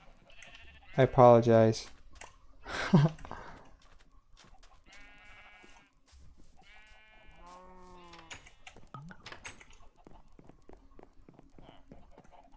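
Video game sheep bleat in a couple of short, loud calls near the start, followed by quieter game sounds while a person talks over them.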